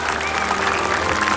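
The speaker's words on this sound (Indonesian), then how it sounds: "Sekali lagi berikan tepuk tangan untuk kedua orang tua Fadli yang jauh-jauh datang dari Kalimantan" A studio audience on an Indonesian TV show claps for a contestant's parents, a dense, continuous wash of applause at close range with no break.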